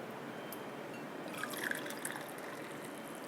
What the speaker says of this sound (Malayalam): ചൂടുവെള്ളമാണ് ഒഴിക്കുന്നത്.